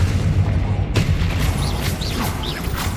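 Explosive spell blasts in Hogwarts Legacy: a sharp boom near one second cuts through dense, continuous game noise and rumble, followed by whooshing magical effects and swirling tonal sounds.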